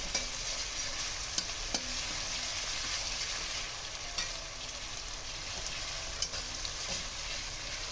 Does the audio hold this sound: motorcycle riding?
no